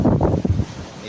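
Gusty wind at sea near a mother boat buffets the microphone in a few close, rough bursts that ease off toward the end.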